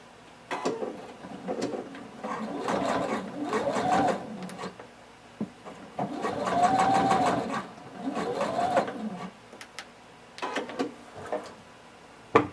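A sewing machine stitches fabric for a pair of shorts or pants, running in several steady whirring bursts with brief pauses between them, close and clear with no talk.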